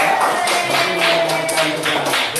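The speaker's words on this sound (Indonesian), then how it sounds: "Tepuk tangan buat itu ya." Classroom applause from students, a burst of quick, uneven hand claps filling the room, fairly loud and close, with some chatter underneath.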